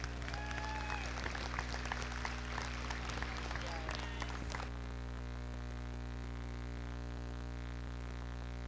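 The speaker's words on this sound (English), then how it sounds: "And if everyone could please give them a huge round of applause." Crowd applause at a junior national cattle show, faint and distant clapping over a constant electrical hum for about four and a half seconds, then only the hum remains.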